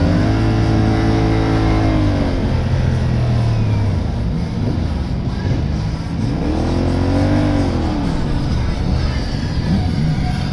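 CFMoto NK 450 motorcycle engine revs in first gear on a test ride, a loud, steady, close drone rising and falling in pitch through several throttle swells, with constant wind rush and no talk.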